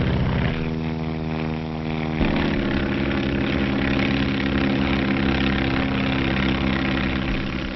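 A 1935 skywriting airplane's propeller engine drones at a steady mid-pitched throb that shifts slightly partway through, loud and continuous throughout.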